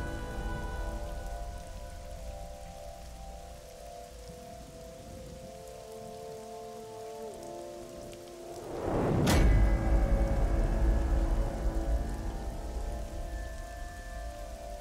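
Steady rain pours throughout a scene in the video game AI: The Somnium Files, with a sudden sharp crack and louder rumbling burst partway through and faint sustained tones underneath.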